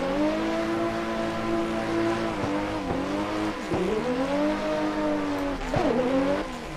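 Drift race car in Assetto Corsa, its engine held at a high steady scream near the redline with several sharp dips and pops as revs bounce off the limiter, loud and close with tire noise underneath.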